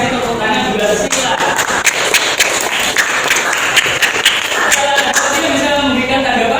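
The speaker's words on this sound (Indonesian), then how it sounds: "kita kasih tepuk tangan juga sila" A group in a classroom during a teachers' academic coaching session claps hands together, a loud, continuous patter of many hands filling the room, with some voices underneath.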